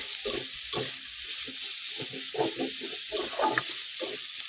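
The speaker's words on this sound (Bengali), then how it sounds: "এবারে দিয়ে দেবো পেঁয়াজ কুচানো, কাঁচা লঙ্কা দিয়ে দেবে। ভালো করে নাড়াচাড়া করে নিব।" Chopped onion and green chilli frying in oil with browned garlic, stirred all the while: a steady close sizzle broken by repeated scraping strokes of the spoon against the pan, with no talking.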